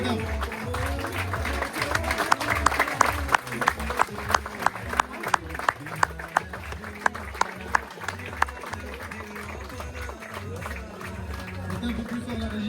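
A crowd claps at a farewell ceremony for Umrah pilgrims, with rhythmic, fairly loud applause over music and murmuring voices.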